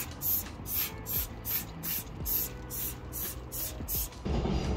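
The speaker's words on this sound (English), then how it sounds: "Well, I don't want to spray the spider." Repeated short hissing bursts of a hand spray bottle misting the leaves of a black colocasia plant in the evening, about a dozen quick even pumps close by, with no talk.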